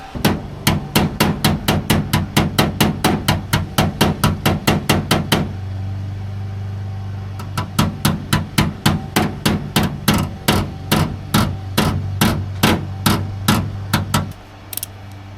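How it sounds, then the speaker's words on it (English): Rapid, evenly spaced hammer blows ring out on the firewall of a 1978 G-body Malibu, close and loud in two long bursts separated by a short pause, with a low hum underneath. "I'm gonna try to hammer it from the outside now."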